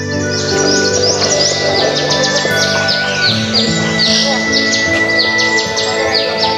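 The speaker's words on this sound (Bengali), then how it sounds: "সুন্দর পাখির আওয়াজ পাওয়া যাচ্ছে" Birds sing in quiet hill countryside near Darjeeling, a dense, lively chorus of overlapping chirps and whistles that stays loud and continuous, with no talk.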